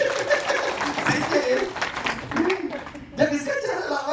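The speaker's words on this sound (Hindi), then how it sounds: "तालियां बजाइए।" Applause and laughter from an audience at a doubt-clearing session in a training hall, steady clapping that swells near the end, with talk and chuckles mixed in.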